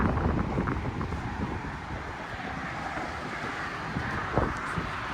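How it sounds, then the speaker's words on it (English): Steady wind buffets the microphone with a loud, continuous roar, broken only by a faint knock near the end. "I know it's windy"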